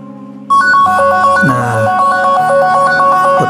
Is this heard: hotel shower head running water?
no